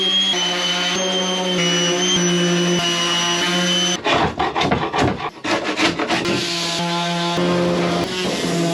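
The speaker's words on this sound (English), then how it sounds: "I'll keep the sanding montage quick because I think that's quite boring to watch" Steady rasping of sandpaper against wood, first smooth and continuous, then in choppier back-and-forth strokes, close and loud.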